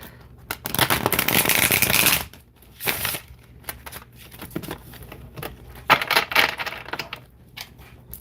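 A deck of tarot cards is handled and shuffled close by: a long riffling rush, then shorter flicks and taps in uneven bursts.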